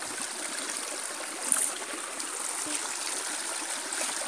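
Water runs along the side of a river in a steady, soft rushing babble. The sound is continuous and fairly close, with one brief splash near the middle.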